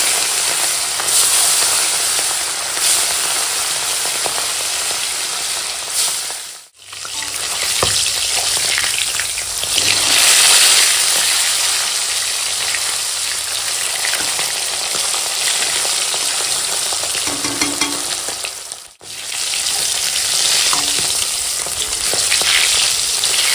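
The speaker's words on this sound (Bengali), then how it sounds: "তেল তেল গরম হয়ে গেছে, দিয়ে মাছ ভেজে নেবো" Rohu fish frying in hot oil, a loud, dense crackling sizzle filling the whole stretch, with brief dips and occasional stirring or turning noises.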